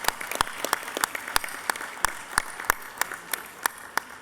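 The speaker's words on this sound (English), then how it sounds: "let's give Matthew a round of applause" Indoor audience applause at an awards event, a dense patter of clapping with sharp individual claps standing out, steady and fairly close for about four seconds.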